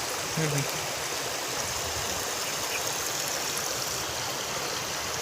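Continuous rushing water, a steady broad roar as floodwater from a cloudburst gushes straight through a large field embankment, with a brief low voice early on.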